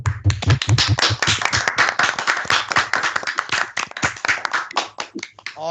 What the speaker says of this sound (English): give a nice sounding claps to the trainees for their dedication and the continuous learning